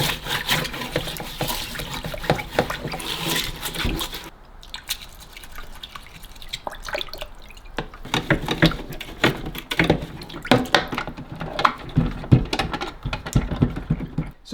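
Drip tray and condensate tray from a Delonghi Magnifica S coffee machine are rinsed under a running tap, with steady splashing and spattering water, close and continuous, plus occasional clatter of plastic being handled.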